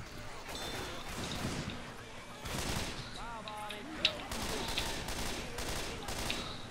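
Scattered gunfire from the zombie co-op shooter Left 4 Dead 2, with bursts of shots and a sharp crack amid game noise and a melodic game tone, while players talk over it.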